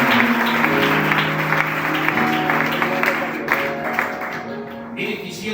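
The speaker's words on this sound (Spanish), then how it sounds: "Confirmamos esta oración con un fuerte aplauso al Señor." A church congregation gives loud, sustained applause, with sustained tones underneath, as if from an organ or keyboard, and the clapping gradually easing toward the end.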